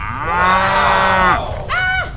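Cartoon cow moos in a long, loud, tonal low that rises and falls for over a second, then a shorter second moo follows, alone with no talk.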